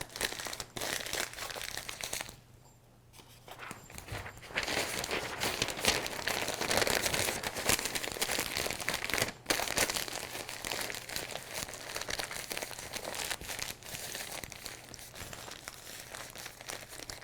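Newspaper or paper towels are crumpled by hand into a ball, giving a steady, close crinkling and crackling that pauses briefly early on, then continues.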